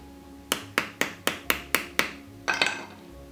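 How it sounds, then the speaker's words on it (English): A screwdriver is hammered into the slot of a taper lock bush on a pottery wheel shaft: seven sharp, evenly spaced metallic taps, then a quick double strike, close and loud with no talking. "you get a screwdriver and whack it in this slot to open it up"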